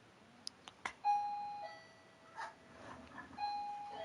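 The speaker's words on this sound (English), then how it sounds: "Looks like we got a fancy doorbell." A digital doorbell in the Matrix Awakens Unreal Engine 5 demo chimes with clear, sustained tones, ringing once and then again a few seconds later over quiet ambient city noise and a few soft clicks.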